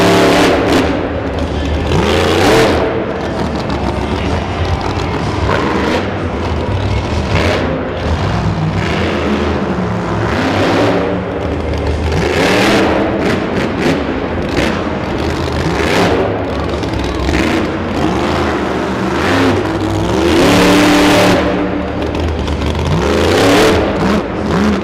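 Monster trucks Scarlet Bandit and Bounty Hunter rev their engines loudly at an arena event in Kansas City, repeated throaty surges and roars filling the air continuously with crowd noise underneath.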